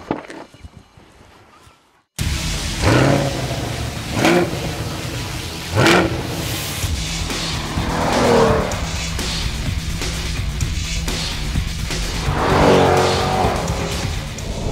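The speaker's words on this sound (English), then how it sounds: "you're immediately conscious of that big engine rumbling away behind your left ear" A 2022 Chevrolet Corvette Stingray with a big rear-mounted engine starts up after a brief quiet moment. It then drives with loud, continuous engine noise that rises in several revving surges, along with some tire noise.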